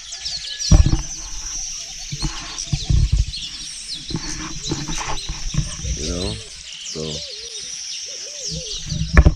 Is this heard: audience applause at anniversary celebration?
no